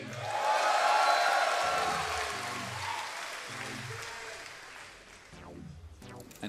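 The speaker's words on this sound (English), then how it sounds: "give a cheer for MC" An audience at a Red Bull Battlegrounds StarCraft esports tournament in Austin cheers and applauds, a loud dense wash of clapping and shouting that slowly fades over several seconds, with thumping low beats of music pulsing underneath.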